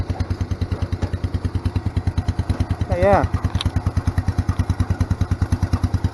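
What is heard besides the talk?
small K241 engine idling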